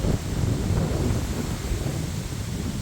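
Strong, gusty wind blows on Charleston Lake during a kayak outing. It roars loud and low against the microphone, a constant rushing buffet with no talk.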